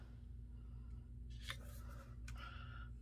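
Scissors snip gold backer paper for artist trading cards, two quick crisp cuts heard close up over a steady low hum.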